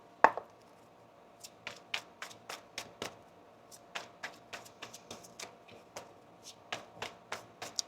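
Tarot cards being shuffled close by, a series of crisp, quiet riffling taps and snaps in an uneven rhythm, about twenty short strokes with no talk.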